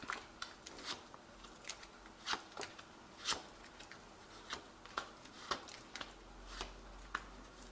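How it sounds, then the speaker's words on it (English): Soft, quiet riffle of a tarot deck being shuffled, a series of crisp card taps and flicks at irregular intervals, close and delicate over a faint background hum. "I have shuffled this deck"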